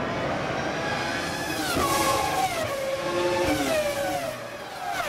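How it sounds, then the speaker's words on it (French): Formula 1 cars from 2000 accelerate out of the hairpin toward Eau Rouge at the Belgian Grand Prix, the track still wet after the rain. Several high-pitched engines rise and sweep past in close succession at a loud, steady level. "Les voitures accélèrent vers le terrible passage de l'eau rouge."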